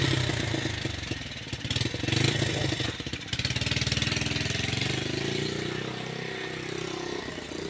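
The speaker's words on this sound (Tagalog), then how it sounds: "Ay nagpaandar pang motor mga idol," Motorcycle engine starting up outdoors in the afternoon, then settling into a steady chugging idle with a fast regular putter, moderately loud and close.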